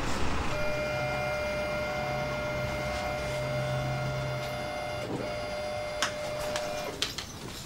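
An office printer runs steadily with a whirring motor hum and a sustained mechanical tone, ending in a few clicks and clunks as the paper feeds through, with no talk over it.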